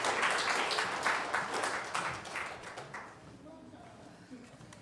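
Applause from a congregation at a Unitarian Universalist Sunday service, a moderate wash of clapping that fades out over several seconds, ending in near quiet with faint murmurs.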